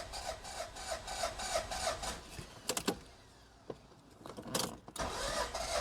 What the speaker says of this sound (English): Oh, it cranks like 5 times.